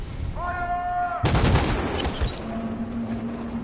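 Soldiers open fire in the video game Detroit: Become Human, a loud, dense volley of rapid gunshots lasting about a second, preceded by a sustained synthetic tone and followed by a low lingering hum.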